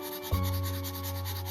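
A drawing tool rubs across paper while stripes are added to a drawn cat, a soft scratchy stroke starting abruptly over a steady low background hum.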